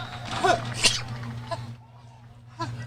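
A sharp sneeze, followed by a second burst, bursts out in an outdoor commentary booth at a high school varsity football game, over a low steady hum with faint scattered sounds afterward.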